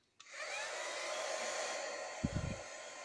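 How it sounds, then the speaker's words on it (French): A heat gun on low speed blows over a shabby-style handmade card with a steady, close, airy whoosh that starts abruptly and holds for several seconds, with a brief clatter near the end. "Je vais mettre un petit coup de hot gun"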